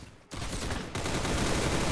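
Video game gunfire in a dense burst of continuous rapid shots that starts after a short lull and grows louder, loud and unbroken with no talking.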